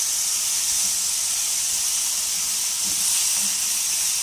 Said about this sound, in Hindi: 2 से 3 मिनट के लिए हमने इनको फ्राई करना है।